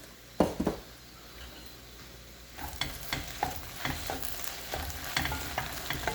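Okra (lady's finger) sautés in a pan with a quiet sizzle, then brisk stirring brings repeated scraping and clattering strokes against the pan, close and fairly soft, with no talking.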